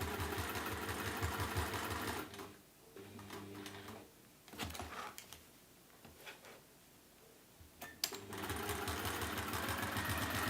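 Sewing machine fitted with a walking foot stitches across thick quilt layers, running in a steady rhythmic hum at the start and end with a quieter pause in between.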